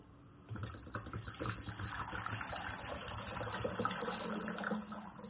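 Coconut water splashes steadily out of a pierced coconut into a container, a continuous close trickle and gush with faint clicking knocks, no talking.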